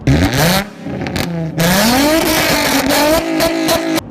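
Infiniti G37-type street car with loud aftermarket mufflers, revving hard in a series of close, roaring bursts with rising and falling engine pitch and brief gaps between pulls.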